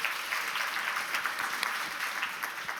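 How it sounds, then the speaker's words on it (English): Audience applause fills a summit hall at an education event, steady dense clapping from a large crowd with no break across the whole stretch. "Let's just give them another round of applause."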